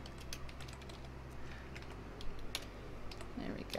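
Fingers type on a computer keyboard in quick, irregular clusters of clicks, faint and close over a low room hum, with no talking.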